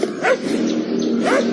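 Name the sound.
dog barking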